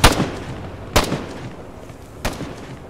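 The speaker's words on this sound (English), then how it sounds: "I hit him with two rifle grenades" Rifle grenade explosions in Arma 3: three sharp, loud blasts spaced about a second apart, each with a short rumbling tail, with no voices between them.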